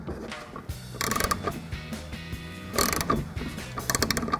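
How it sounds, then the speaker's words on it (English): A 15 mm ratcheting wrench clicks in repeated bursts as it loosens the upper shock mounting bolt on a 2016-2024 Camaro during a Pedders coil-over install, the ratchet loud and close with several separate runs of clicking. "we'll grab our 15 mil ratcheting wrench and go ahead and get that off"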